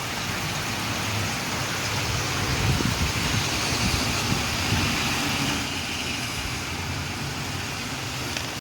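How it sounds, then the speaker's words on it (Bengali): Heavy rain with strong cold wind outdoors, a dense continuous rushing roar with a low rumble swelling midway like a passing vehicle, steady and fairly loud throughout. "দেখো কীরকম হাওয়াটা দিচ্ছে, বুঝতে পারবে, ছুটে ছুটে যাচ্ছে একবারে বৃষ্টিটা।"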